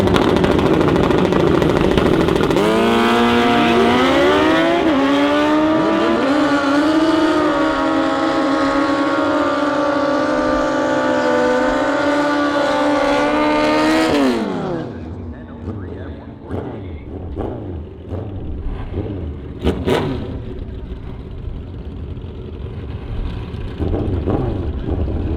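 A 2009 Suzuki Hayabusa drag-racing motorcycle roars loud and near, its engine pitch climbing through a long wailing acceleration before cutting off sharply. A quieter jumble of track noise and a voice follows.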